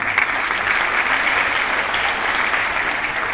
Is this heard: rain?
no